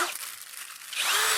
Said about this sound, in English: So here I'm drilling a couple of holes.